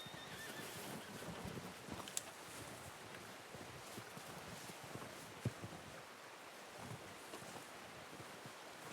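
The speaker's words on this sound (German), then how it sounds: "Komm her, mein Pferdchen." A horse neighs and its hooves thud in the video game Red Dead Redemption 2, set against a steady outdoor wind-like wash, with no talking heard.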